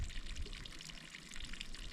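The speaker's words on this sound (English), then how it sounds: "This is the largest area of runoff here, and you can see it's running pretty good." Rainwater runoff in a railway ditch amid melting snow, running steadily as a continuous broadband rush of flowing water with a low rumble, fairly quiet and without pauses.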